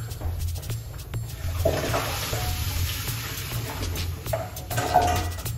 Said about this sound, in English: Let's wash off these things right here.